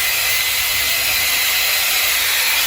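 A Dyson AirStrait hair dryer runs on its highest fan setting, making a steady, loud, close rushing blast of air that holds constant with no talk over it.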